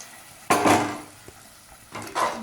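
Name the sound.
stirring chickpea curry after adding boiled water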